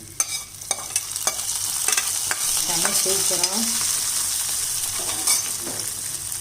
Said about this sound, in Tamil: முந்திரி திராட்சையை வறுத்தாச்சு. இப்போ நான் பாயசத்தில் சேர்த்துக்கிறேன்.